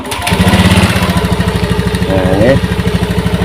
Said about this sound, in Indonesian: kita hidupkan starter